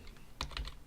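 A few quick, faint keystrokes clatter on a computer keyboard while code is being written, a short cluster of light clicks with no talking.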